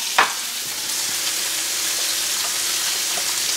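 Pork tenderloin searing in a hot pan, a steady loud sizzle that crackles evenly throughout, with a brief knock as the meat is laid down at the start.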